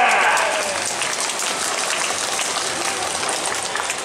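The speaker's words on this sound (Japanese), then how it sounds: "拍手拍手。" Loud, dense applause and clapping from a crowd at the Urawa Yosakoi festival dance performance, sustained and even throughout, with a faint voice at the very start.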